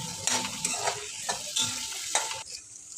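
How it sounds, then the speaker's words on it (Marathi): Whole cashews roasting with sautéed tomatoes in a pan, a sizzling hiss broken by several rhythmic spatula scrapes and stirs, near and moderately loud, no speech. "त्यात आपण आता अखंड काजू घालू आणि ते पण भाजून घेऊ 2-3 मिनिटं।"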